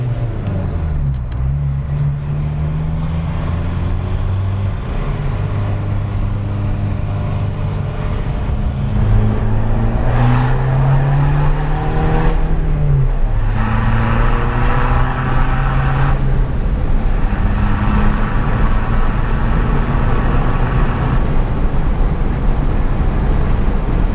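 Skoda Fabia VRS Mk1 with its 1.9 diesel engine driving, heard from inside the cabin: a steady low drone that rises and falls in pitch as it pulls through the gears, with road and wind noise underneath.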